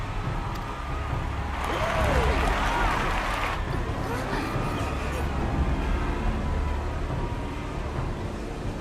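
A video game crowd in Final Fantasy XIV cheers and roars in a broad, steady wash of noise, swelling for a few seconds before settling into a continuous background din.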